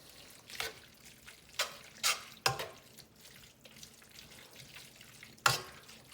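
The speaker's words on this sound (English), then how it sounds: "you can hear if your pasta is wet enough, because it'll actually zhush in the pan" Fettuccine in lamb ragu tossed in a hot pan, giving several short, bright hissing bursts at irregular intervals over a quiet, faint background.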